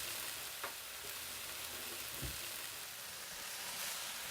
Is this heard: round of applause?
no